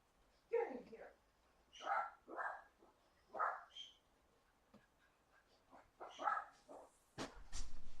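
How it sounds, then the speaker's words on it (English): Dogs barking indoors in a series of short, loud bursts spread across several seconds, with brief pauses between them, the barks sounding close by. "Frickin' dogs."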